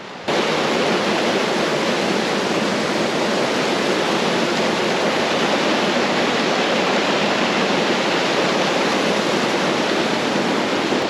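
Water pours over the Rhodes Pond dam in a steady, loud, unbroken rush that fills the whole stretch, with no pauses and no voices.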